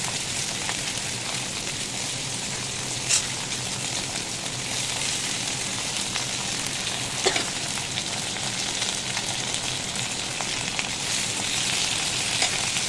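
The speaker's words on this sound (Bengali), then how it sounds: "ভেন্ডিগুলো দিয়ে দিলাম," Okra frying in hot oil with panch phoron and chilli, a dense, loud, continuous sizzle lasting throughout, with occasional clicks from stirring and no speech.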